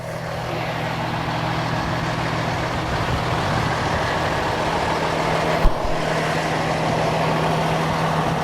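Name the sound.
combination jet vac sewer maintenance truck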